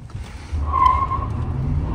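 An MHERO 917 electric car launching from a standstill with launch control, a rising motor rumble and a sharp, sustained tire squeal that swells quickly, close and fairly loud.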